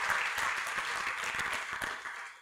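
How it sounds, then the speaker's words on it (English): Audience applause at a high school athletic hall of fame ceremony, a steady wash of many hands clapping at moderate level, holding evenly before tapering off at the end. "Let's give them a round of applause as well."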